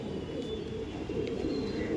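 Male Madras pigeon from Delhi coos faintly amid a low, steady rumble of background noise, no voices present.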